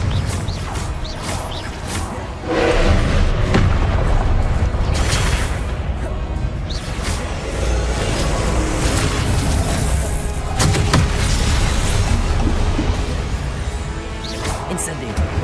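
Confringo blasting curse in Hogwarts Legacy sets off a loud boom that swells into sustained crashing, rumbling blasts, with whooshing and smashing impacts layered on top.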